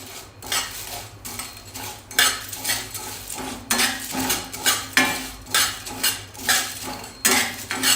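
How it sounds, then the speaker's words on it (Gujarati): Cardamom pods dry roast in a pan for tea masala, rattling and scraping as they are stirred, in a steady rhythm of loud clattering strokes with no talk over it. "સૌથી પહેલાં એલચીને થોડી શેકી લઈશું"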